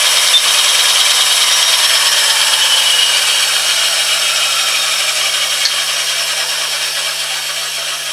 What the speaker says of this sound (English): Over here I've got my wood cutting bandsaw